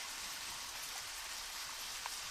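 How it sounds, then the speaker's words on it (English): Steady rain hisses in the Deadly Premonition video game, a dense continuous patter of drops on surfaces with no voices over it. "so it started raining, and with a flash of lightning, we immediately have our FBI Poncho on"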